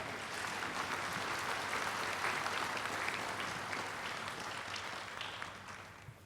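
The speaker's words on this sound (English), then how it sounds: "So let's have a round of applause for the artists before we even start." Audience at an award ceremony for the 2012 Santa Fe Indian Market applauds the artists, a steady, even wash of many hands clapping for about six seconds, heard from some distance and fairly quiet.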